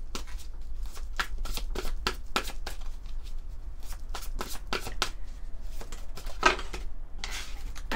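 Oracle fairy cards being shuffled by hand, a steady series of quick papery riffles and slaps repeating close up for several seconds, fairly quiet with no talk.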